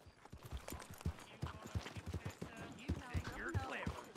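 Horse hooves clip-clop in a steady rhythm in Red Dead Redemption 2, moderately close and fairly quiet, with someone talking over them at times.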